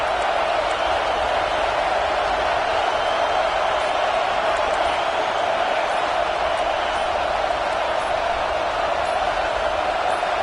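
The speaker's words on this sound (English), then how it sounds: "And with this place rocking, the crowd forces a false start" A stadium crowd roars at a Clemson football game, a loud, steady wall of noise that holds unbroken throughout, with talk faintly beneath it.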